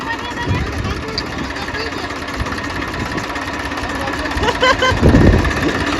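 A small tractor engine chugs steadily and fairly loudly throughout, with people talking over it now and then.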